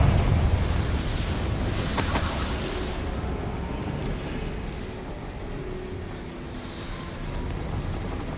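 A Confringo spell explosion in Hogwarts Legacy sets off a loud, roaring blast that rumbles on for several seconds, with crackling debris near the start and a gusting, wind-like swell near the end.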